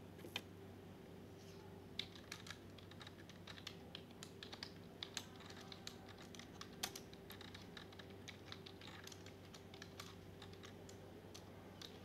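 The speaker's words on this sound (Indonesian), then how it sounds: "ketikkan perintah berikut" A command is typed on a computer keyboard in MATLAB, with rapid, quiet key clicks coming in uneven bursts over a low, steady background hum.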